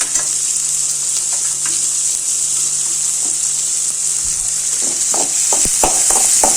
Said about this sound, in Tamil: இந்த வெங்காயம் நல்லா வறுபடட்டும்.